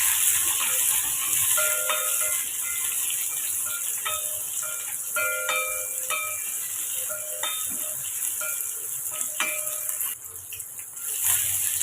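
Sliced onion, pinched dried red chillies and curry leaves saute in oil in a pan for a vegetable and fenugreek curry lunch, making a steady close sizzle with repeated clinks and scrapes of a stirring spoon against the metal.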